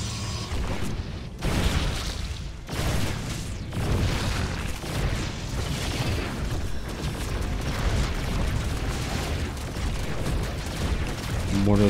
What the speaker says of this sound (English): Mortars doing as much damage as they can before they eventually die.